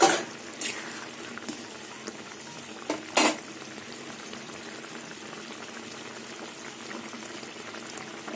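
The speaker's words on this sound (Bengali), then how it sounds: "এইভাবে কিছুক্ষণ ফুটবে, তারপরে নামিয়ে নেব।" A thin curry for pointed gourd fritters bubbles in a pan, a continuous close boiling hiss with occasional clanks of utensils against the metal and no speech.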